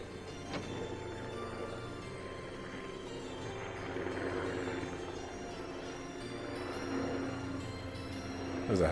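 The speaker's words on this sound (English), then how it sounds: "There's a helicopter." A helicopter flying in the video game Trails of Cold Steel 2, a steady whirring drone that holds at moderate level, alone without talk.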